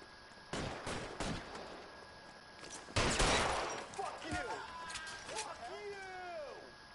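Gunfire in the video game L.A. Noire, several sharp shots in a quick burst followed by a louder blast, with game voices talking afterward.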